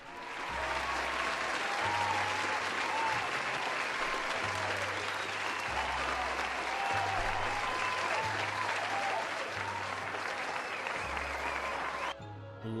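Sustained audience applause and cheering fill the whole stretch, dense and steady from start to finish, with a deep rhythmic bass pulse from background music running underneath and a brief dip near the end.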